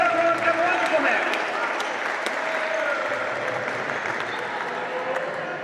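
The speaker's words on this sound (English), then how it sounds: "A round of applause for everyone and wonderful match" A crowd applauds after a wonderful korfball match at an IKF Korfball League final, a dense wash of clapping that is loudest at the start and slowly fades, with a whistling tone and some voices mixed in.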